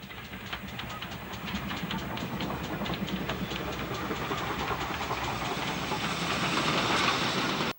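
Two steam locomotives, a 2P piloting unrebuilt West Country 34041 Wilton, pass with a rapid chuffing exhaust beat and rolling rail noise, a steady loud rumble that builds slightly before cutting off.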